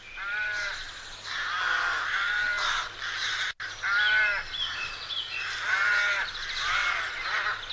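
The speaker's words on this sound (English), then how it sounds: "The arrival of spring is heralded by the unmistakable sound of the rookery" Rooks at a spring rookery on the Highgrove estate keep up a continuous chorus of raucous overlapping caws from several birds, moderately distant, with a brief gap midway.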